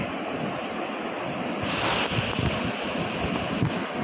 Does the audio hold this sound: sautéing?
no